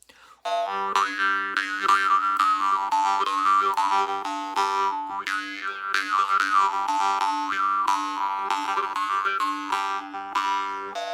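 A low, twangy jaw harp plays a continuous rhythmic pattern with buzzing, wah-like vowel shifts, close and fairly loud throughout.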